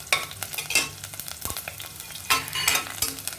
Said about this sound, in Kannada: ಇದು 1 ನಿಮಿಷದಷ್ಟು ಫ್ರೈ ಆಗಲಿ.